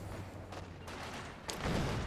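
A mine explodes in a World War II strategy video game, a muffled boom that rumbles on low underneath a busy battlefield with distant gunfire.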